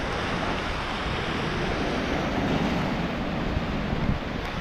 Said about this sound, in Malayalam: കടൽ ഭയങ്കര അളക്കാണ്